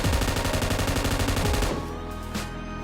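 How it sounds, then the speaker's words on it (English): Rapid automatic gunfire rattles loudly and continuously from inside a BRDM armored vehicle in the PUBG video game, then cuts off abruptly, leaving a quieter engine drone with a faint click. "You can actually shoot from BRDM vehicle."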